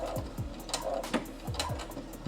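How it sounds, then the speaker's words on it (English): A sewing machine back-stitching a keychain lanyard, giving a short run of close mechanical thumps and whirring pulses with small clicks, no talk. "Now do the back stitch."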